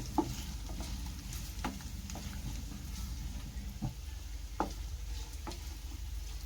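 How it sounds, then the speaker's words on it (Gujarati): Paneer pieces shallow-fry in oil over a medium-low gas flame, giving a steady, close sizzle with a few sharp ticks and pops scattered throughout. "સાવ ગેસની ફ્લેમ સાવ મીડિયમ સ્લો રાખી અને પનીરના ટુકડાને આપણે ફ્રાય કરી લેશું"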